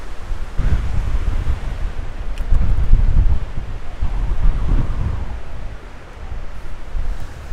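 Strong autumn wind in Glen Feshie, Scotland, buffets the microphone in a continuous low roar, rising in heavy gusts, with a faint surf-like wash behind it.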